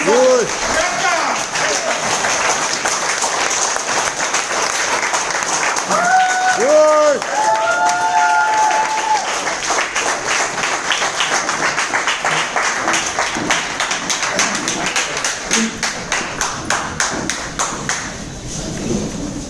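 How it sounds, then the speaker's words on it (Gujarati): A hotel hall audience at a business event claps loudly and steadily for senior leaders for nearly twenty seconds, mixed with thumps and brief bursts of music, the clapping thinning toward the end. "આપણા બધાની જોરદાર તાળી"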